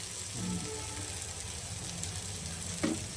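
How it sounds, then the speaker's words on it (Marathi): Rawas, Indian salmon, fries on a tawa with very little oil, giving a soft, steady sizzle at a faint level, broken by a couple of brief clinks and scrapes. "हे रावत सरसरीत भाजतं"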